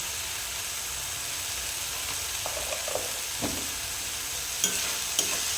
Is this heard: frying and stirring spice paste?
yes